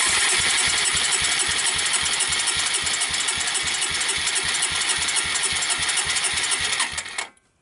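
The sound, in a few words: Suzuki Quadrunner LT160 ATV engine cranking with starter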